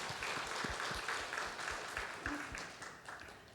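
A church congregation at a Sunday service claps together in a steady, sustained round of applause that fills the room, with a few faint voices and a brief tone underneath, tapering slightly toward the end.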